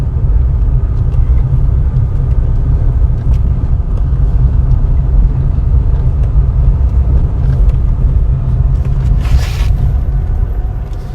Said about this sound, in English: So we're gonna have some bumpy ride